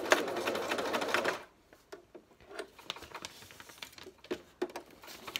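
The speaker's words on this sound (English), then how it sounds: "I have just a very simple sewing machine" A very simple home sewing machine stitches lace and fabric in a fast, dense whir for about a second and a half. Sparse soft clicks and taps from handling the fabric follow, near and quiet.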